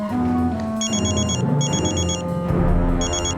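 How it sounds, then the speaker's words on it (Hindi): A telephone rings in bursts of a bright electronic trill, three ring cycles over a steady low background hum in a police station scene from a Crime Patrol crime drama, with no talking. "हॉस्पिटल से फोन आया था, वीर को होश आ गया है।"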